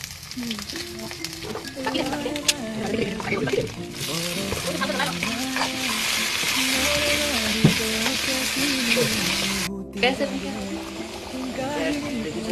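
Potato pieces frying in a pan with a steady, close sizzle and occasional stirring scrapes, while a voice talks over it for most of the clip.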